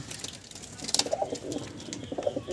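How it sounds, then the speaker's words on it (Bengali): Andhra tippler pigeons in a loft coo in soft, repeated low calls, with a few louder coos toward the middle and end over a faint airy background. "এই যে দেখুন পায়রাগুলো সব দুর্দান্ত পায়রা"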